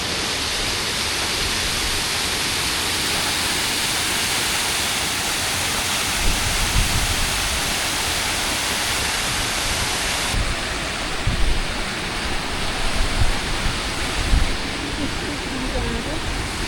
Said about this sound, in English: the water crashes down into a hidden valley below